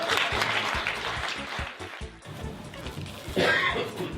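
Audience applause at a French corporate event, scattered clapping mixed with murmuring and shuffling, moderately loud, dipping midway and swelling again near the end as voices continue underneath.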